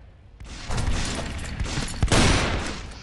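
Gunfire in the World War Heroes mobile shooter during a team deathmatch, a dense burst of rapid shots starting after a brief lull and continuing loud and close, with a sharper crack near the end.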